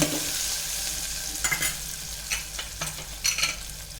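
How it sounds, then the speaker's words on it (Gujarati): Cut potatoes frying in a hot turmeric tempering in a cooker for batata poha, with a steady sizzle under intermittent scraping stirs of a spoon against the pan, close and alone. "ત્યાર પછી આ કટ કરેલા 1 વાટકો બટેટા છે તે નાખીશું."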